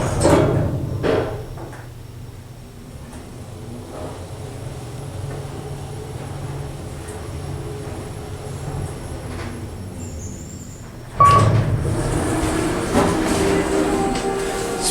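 A new KONE machine-room-less traction elevator at a shopping center in Fairfield, California runs with a low, steady hum and rumble, then a sharp clunk and louder rush as the doors open near the end.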